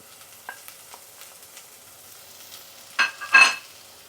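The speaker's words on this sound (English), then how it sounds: "Once your pan starts to smoke, you want to add your vegetables. Your onions," Onions and other vegetables drop into a smoking-hot pan and give a short burst of sizzling near the end, after a quiet stretch of faint clinks.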